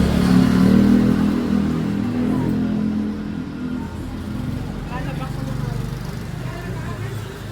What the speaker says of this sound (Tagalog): May sasakyan ah.